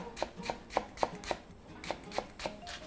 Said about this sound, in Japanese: 長ネギはみじん切りにしていきましょ